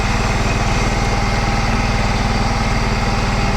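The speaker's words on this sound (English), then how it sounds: "I never checked the gas in the John Deere, so it's possible we run out." A John Deere lawn mower engine runs steadily close by, a constant droning idle-like chug with a fast regular pulse and no break or voices throughout.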